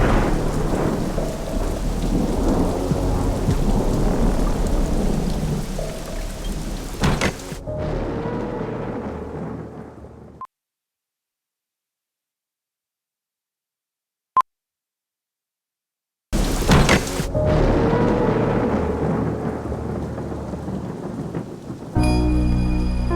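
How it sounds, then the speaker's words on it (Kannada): Heavy rain pours with rolling thunder in a loud, dense downpour that cuts to near silence midway, then returns just as strongly; no one speaks. "ಆಚೆ ನೋಡಿದ್ರೆ ಅಷ್ಟೊಂದು ಮಳೆ ಬರ್ತಾ ಇದೆ"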